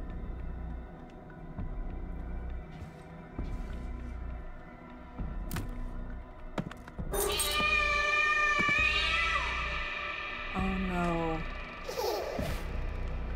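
A frightened cat lets out loud, drawn-out wailing meows and yowls close by, following some faint knocks and rustles over a low background hum.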